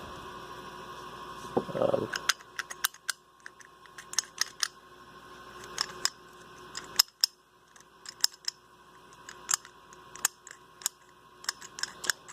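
A door handle on a Triumph TR4 is screwed back in by hand, with a series of sharp irregular clicks and ratcheting ticks spread over several seconds against a quiet background hum.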